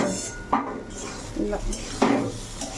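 A metal spoon stirs semolina in a pan, giving a few clinking scrapes against the metal amid soft rustling and light sizzle.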